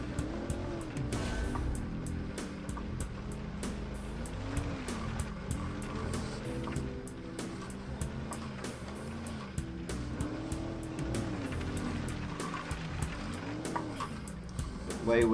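An 80s off-road utility car in a driving game runs steadily over dirt roads, its engine droning and rising and falling with gear changes and occasional tire scrabble, while someone talks over it throughout.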